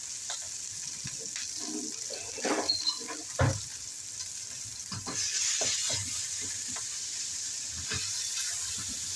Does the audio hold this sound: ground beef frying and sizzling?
yes